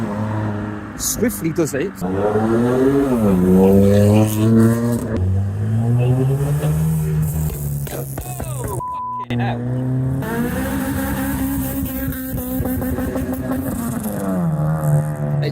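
Modified cars, including a BMW E46, pull away loudly from a car meet. Engines rev and rise in pitch in repeated close bursts of acceleration, with excited voices talking over them and a brief tire chirp.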